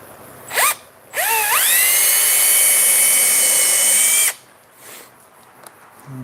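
A cordless power drill boring a hole, with a short whir followed by a longer steady high-pitched whine of about three seconds that then stops, close and loud with no talking.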